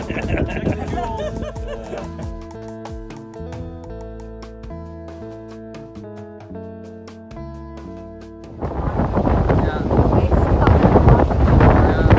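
Wind rushes loudly across the microphone while sailing in the Abaco Islands, a steady broadband buffeting that takes over after a stretch of music and lasts to the end.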